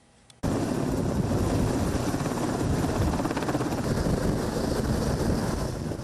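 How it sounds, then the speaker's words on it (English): A military combat helicopter's steady rotor thrum, flying low overhead at night, sets in abruptly after a brief quiet moment and holds loud and constant, with wind rumble mixed underneath. "People out after curfew watched and took video of the choppers flying low overhead."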